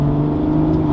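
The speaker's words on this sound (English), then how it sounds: "Got the burbles." BMW F30 340i engine humming steadily in sport mode, a close, loud sustained drone with a low, even exhaust tone.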